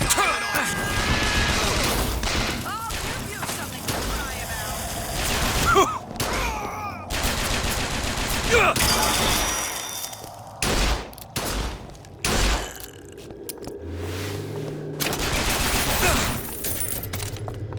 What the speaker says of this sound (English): A Tommy gun. I broke it. Cool.